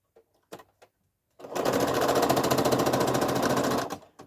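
A sewing machine stitches nested quilt seams for a nine-patch block, running in a fast, even, close-up rattle for about two and a half seconds after a few soft handling taps.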